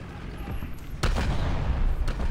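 Tank cannon booming in the War Thunder Mobile game: one heavy shot lands sharply about a second in, and a second fainter blast follows near the end over steady engine rumble.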